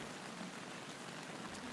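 Heavy rain falling steadily in a forest, a dense continuous hiss with no pauses, moderately loud and unbroken for the whole stretch.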